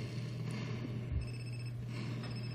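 Telephone ringing in the GTA San Andreas video game, a few short electronic ring tones over a low in-game hum, fairly quiet with no talk.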